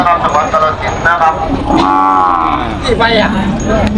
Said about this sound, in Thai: ส่วนใหญ่จะเป็นวัวบามันครับ